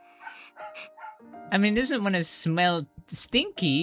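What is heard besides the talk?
dogs barking outside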